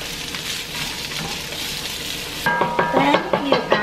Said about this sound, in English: first we heat up the oil in the Dutch oven until it's shimmering. Adding the onion and the garlic.